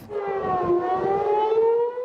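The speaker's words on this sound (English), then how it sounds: "sirens sounded in Tel Aviv" A loud air raid siren wails steadily in Tel Aviv during rocket fire, its tone slowly rising and falling, with no voices over it.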